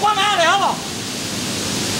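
A 200-metre waterfall at Mugua Keng in Nantou, Taiwan, roaring as a steady, dense wash of rushing water; a person's voice rises briefly over it at the start before the continuous roar carries on alone.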